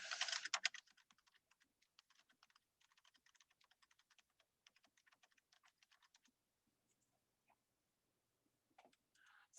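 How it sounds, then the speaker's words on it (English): A name is typed on a computer keyboard as a run of quick, light key clicks in uneven bursts, fairly quiet and close, thinning out toward the end. "I've got to type my name in again because I closed out of it already"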